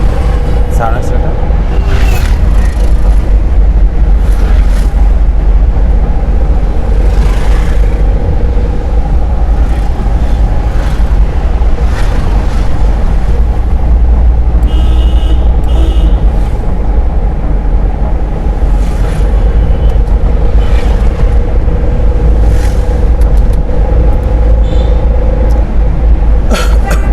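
A learner driver's car at a driving school gives a steady low engine rumble throughout while an instructor keeps talking over it, with no sharp revving standing out.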